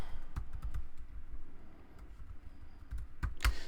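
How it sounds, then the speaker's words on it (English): Someone types a password on a computer keyboard, producing a quick irregular run of close, light key clicks followed by a brief pause and a final burst of taps. "reconnect to the host, type in the password."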